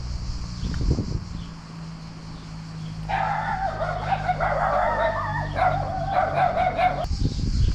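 Several dogs at an abandoned-looking area near a rail line in Tskaltubo bark and yip in a noisy, overlapping cluster at mid distance, with wind and movement noise before and after the barking burst.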